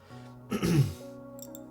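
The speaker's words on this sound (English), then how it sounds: "my throat is like, I'm needing to clear my throat today" A single short throat clearing, close and moderately loud, rises over a faint steady hum and fades quickly.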